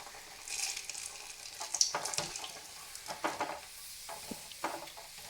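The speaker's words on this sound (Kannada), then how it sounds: "ಸ್ವಲ್ಪ ನಿಧಾನವಾಗಿ ಹಾಕೋವಾಗ ಎಣ್ಣೆ ಎಲ್ಲ ಸಿಡಿಯೋ ಚಾನ್ಸಸ್ ಇರುತ್ತೆ" Kajjaya, a sweet fritter with sesame, frying in hot oil at a low flame, soft continuous sizzle with scattered crackles and small spits of oil, close and quiet.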